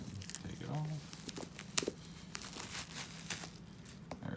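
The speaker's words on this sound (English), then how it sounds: "You get that Apple shrink wrap. Just gonna rip that and take it off." Apple shrink wrap is torn and crinkled off a 7th-generation iPad box in short crackling rips and rustles, quiet and close, with a brief sharp snap partway through.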